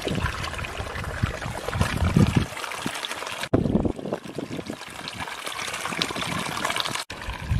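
Clear water flows near the summit of Mount Pangrango at Mandalawangi, a steady close trickling and splashing that runs continuously with brief breaks.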